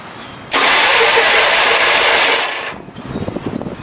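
An Onan 16 hp engine cranks and catches after a carburetor rebuild, a loud sustained burst of running for about two seconds before it dies away into rough, uneven sputtering.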